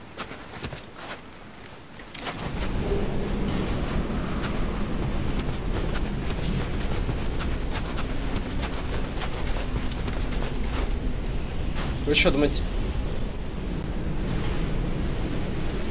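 Wind gusting over open water in Dark Souls II: Scholar of the First Sin, a continuous blustery rumble with scattered clicks and a brief louder burst partway through; a voice speaks briefly at the start.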